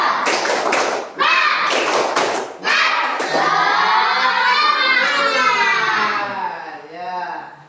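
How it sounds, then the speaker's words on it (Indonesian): A class of schoolchildren performs a rhythmic spirit clap, clustered claps and thumps landing in quick bursts, then their voices chanting together loudly for several seconds, close and filling the room. "mari kita bertepuk semangat. Tepuk semangat."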